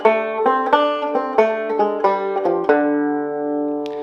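D blues scale picked on a banjo in open position, with roughly ten single notes in a steady run and a last note left to ring, played alone and close.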